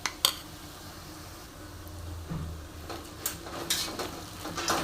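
Ground coconut and peanut paste drops into a hot pan for misal and is stirred, giving a few sharp clinks and scrapes over a soft, steady sizzle, with no one speaking.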